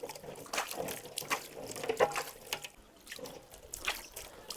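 Water trickles and drips over a dirty plastic water bottle as it is rinsed inside and out. Close, irregular splashes and dribbles come and go without speech.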